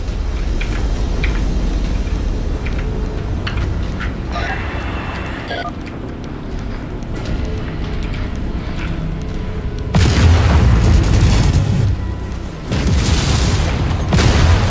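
A mech blows up in the combat game MechWarrior 5: Mercenaries amid a rumbling battle drone, a loud burst of explosive noise breaking in late and roaring for a couple of seconds before easing.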